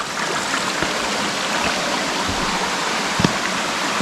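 Steady rushing of a shallow mountain valley stream flowing over a rocky bed, a broad continuous wash of water close by with faint splashes, no voices.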